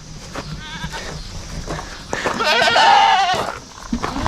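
Goats bleating at feeding time on a farm, with several wavering bleats, one loud and sustained near the middle, over a steady background murmur.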